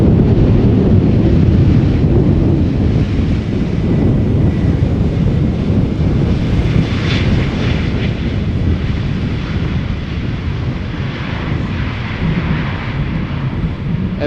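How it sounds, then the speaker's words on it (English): A jet airliner, an Embraer 190 arriving from Brussels in One World special livery, approaches Schiphol Airport in gusty crosswind, its engine roar steady and loud throughout, mixed with heavy wind buffeting on the microphone. "And Embraer 190 arriving from Brussels behind it."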